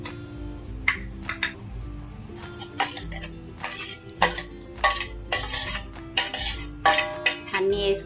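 A spoon stirring cut fruit such as black grapes, apple and guava in a bowl, with repeated clinks and scrapes of metal against the dish in an uneven rhythm, close and clear.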